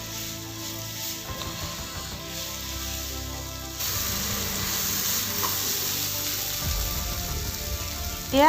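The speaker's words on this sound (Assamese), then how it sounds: "এইখিনি মই 5 মিনিটমান সময়ৰ কাৰণে ভালদৰে মিলাই ভাজি ল'ম" Steady oily sizzle of soybeans frying in a pan, with intermittent scraping and stirring; the sizzle grows louder midway and continues without talk.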